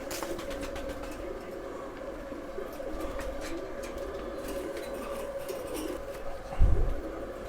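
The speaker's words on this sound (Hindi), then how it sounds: "ये देवबंद के लंगोट और तितरे कबूतर जी" Deoband Langot and Titar pigeons coo in low, soft, repeated calls close by, with faint background chatter and a brief thump near the end.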